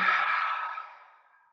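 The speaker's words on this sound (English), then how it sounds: "big, deep breath in. And a long breath out." A long, slow exhale during a restful relaxation breathing exercise, one breathy airy sigh that starts full and gradually fades away over a second and a half, close and alone.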